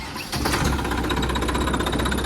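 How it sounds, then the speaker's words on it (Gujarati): A tractor engine catches after a brief quiet moment and settles into a loud, steady, rapid chugging run, close by, with no voices. "ટ્રેક્ટર ખાલી ઉપડે ને એનો અવાજ સાંભળજો"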